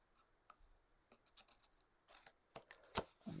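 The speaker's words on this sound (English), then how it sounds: "So we cut up the middle. Let's cut a little notch" Scissors snip a small notch in a series of short, crisp cuts that build to several louder closing snaps near the end, close up and alone.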